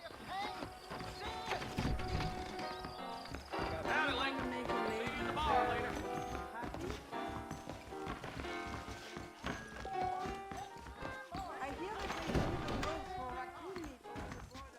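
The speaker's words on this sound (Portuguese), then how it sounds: "Esse cavalo agora é o seu fiel corcel." Hooves and whinnying of a horse in Red Dead Redemption, with clopping steps and a few neighs under continuous game sound and voices.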